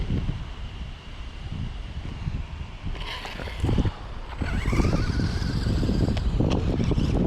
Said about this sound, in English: super breezy day out today. Look at this wind blowing.